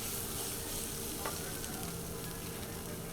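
Tomato paste being stirred in a frying pan, a quiet steady sizzle with faint stirring scrapes, close by and without speech.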